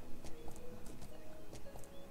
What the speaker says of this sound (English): we're gonna ride around on the Halloween horse